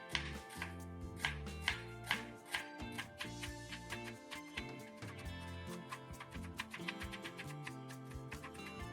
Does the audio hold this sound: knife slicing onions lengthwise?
yes